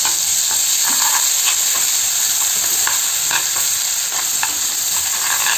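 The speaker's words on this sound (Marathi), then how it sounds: "हे मसाला याच्यात तेलात मस्त परतून घ्यायचा" Spice masala fries in oil in a village-style pan for a spicy crab curry, producing a loud, continuous sizzle broken by repeated stirring scrapes, close up and without talk.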